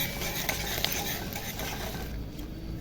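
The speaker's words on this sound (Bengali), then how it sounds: "আদা রসুনগুলো নিয়ে আমি একটু তেলে ভেজে নিয়েছি।" Chopped ginger and garlic fry in hot oil in a pan, making a steady dense sizzle with light stirring and a couple of faint clicks, close and continuous, with no speech.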